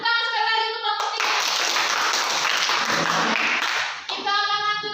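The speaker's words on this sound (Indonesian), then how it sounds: "tepuk tangan sekali lagi untuk kelompok 3" A classroom group claps for presenting group 3, a brief dense burst of many hands lasting about three seconds, with a voice speaking just before and after.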